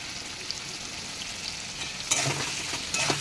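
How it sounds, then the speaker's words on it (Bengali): Taro stems frying with spice paste in a pan, a steady close sizzle with a few louder stirring scrapes toward the end, no talk. "মশলা দিয়ে বা কষাতে হবে"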